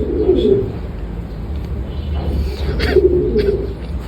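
Racing pigeons in a loft give low, rolling coos in two clear bursts over steady background noise, fairly close, with no talk.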